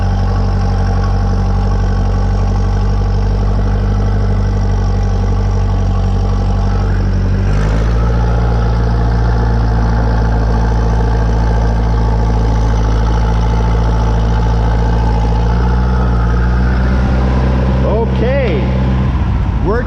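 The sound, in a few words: tractor engine reversing down a driveway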